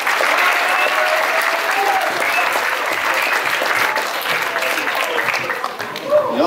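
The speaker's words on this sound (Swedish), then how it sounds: "En applåd för Christer!" Loud, dense applause from a live show audience for a singer after his song, sustained clapping from a large crowd with some cheering and voices mixed in, fading a little near the end.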